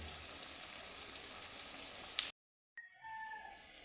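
Bananas frying in a pan for breakfast, a steady close sizzle with scattered crackles that cuts out briefly and then returns, quieter.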